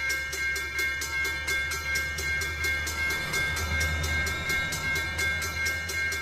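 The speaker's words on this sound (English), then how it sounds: "Wait, here comes the first train." A train passes in the Roblox game Rails Unlimited, giving a steady, loud rolling rumble with rhythmic clickety-clack wheel beats and a sustained tonal hum throughout, with no talking.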